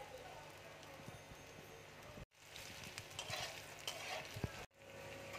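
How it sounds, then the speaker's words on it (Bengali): Eggplant frying in mustard oil in a pan, a soft, steady sizzle with occasional light stirring clatters, quiet and close. "বেগুনটা ভালো করে ভেজে নেব"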